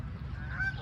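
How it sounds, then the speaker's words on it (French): A large flock of wild ducks calling, a brief, faint burst of nasal honking quacks in the distance. "Je vois les canards sauvages, ils sont pleins là-bas."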